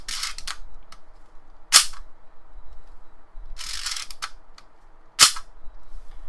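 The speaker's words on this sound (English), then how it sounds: "But if you go to on and you press this, the blade springs out." A spring-loaded Assassin's Creed hidden blade replica snapping out, sharp metallic clicks and snaps in a few separate bursts against near silence.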